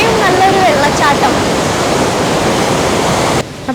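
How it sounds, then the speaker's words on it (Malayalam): Rhine Falls in Switzerland thunders as a loud, steady broadband roar of falling water with faint voices early on. The rush drops sharply in level just before the end. "നമ്മുടെ കണ്ണിന്റെ തൊട്ടടുത്ത് കാണാൻ പറ്റുന്ന ഇത്രയും നല്ലൊരു വെള്ളച്ചാട്ടം."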